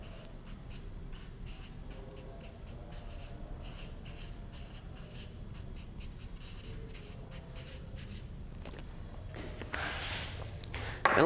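Marker strokes scratch and tap across a board in short bursts and scribbles, close and fairly soft, while someone speaks quietly in between.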